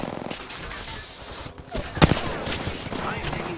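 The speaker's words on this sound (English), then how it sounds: "I am taking fire, friends." Gunfire in the Apex Legends video game, with a sharp loud shot cracking out amid rapid bursts and game effects, heard alongside a player's voice.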